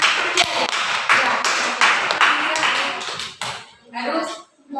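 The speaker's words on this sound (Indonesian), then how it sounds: "Iya, tepuk tangan." Class of pupils clapping hands together in a classroom, a dense burst of many hands that pauses and resumes, with a teacher's voice between.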